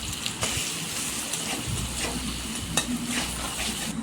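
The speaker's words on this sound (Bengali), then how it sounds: "মশলাটা নেড়ে চেড়ে" Spices fry and sizzle in hot oil in a wok with black cumin and boiled taro, stirred with repeated scraping strokes over a steady close crackle, with no voices.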